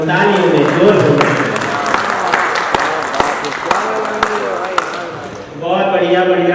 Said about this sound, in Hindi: तो आप बजाएंगे ही और तालियों में जोर होगा।